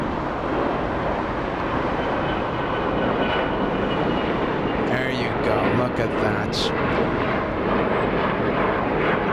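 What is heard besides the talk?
British Airways airliner at LAX airport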